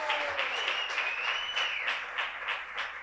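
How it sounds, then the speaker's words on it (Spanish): Studio audience applauding a guest, former baseball player Omar Vizquel, on a bar-set talk show; steady, fairly loud clapping fills the whole stretch with no voices over it. "Un aplauso para él."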